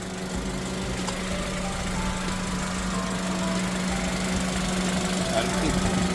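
A 2022 Kia Bongo 3 King Cab LPG truck with 14,000 km idles with its engine bay open, giving a steady, smooth low hum with a faint mechanical rattle that holds even throughout.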